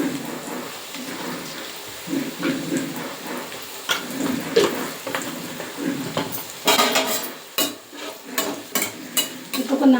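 A spoon stirs salt, turmeric and chilli into bitter gourd frying in a pan, with scraping, clinks and soft sizzle coming in irregular strokes that grow busier toward the end.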